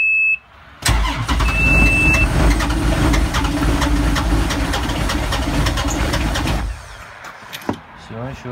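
A Sherp all-terrain vehicle that has not started in a long time cranks on ordinary batteries, its starter churning loudly in one long continuous burst with faint clicks over it, then cutting off into near quiet.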